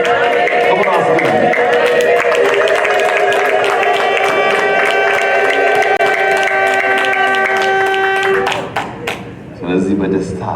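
A church congregation ululates in celebration, a loud, sustained chorus of high trilling voices over clapping and crowd noise that cuts off abruptly near the end, followed by brief fainter sounds.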